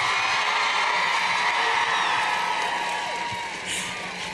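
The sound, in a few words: crowd applause and cheering at climate strike rally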